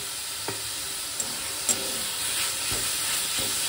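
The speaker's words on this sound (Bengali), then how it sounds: "একটু নাড়াচাড়া করে নেবো অল্প সময়।" Chicken stirred in a hot frying pan, a steady sizzle with a few soft scrapes of the spoon against the metal, close and alone.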